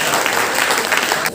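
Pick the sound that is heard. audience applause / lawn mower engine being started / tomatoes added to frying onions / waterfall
audience applause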